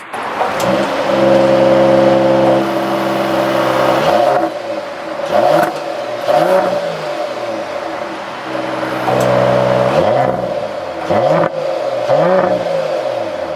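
A 2021 Mercedes-AMG GLE 53 Coupe revs hard several times through its quad-tip AMG sports exhaust, holding high then dropping, with sharp exhaust barks and rising pitch sweeps between revs, close and loud.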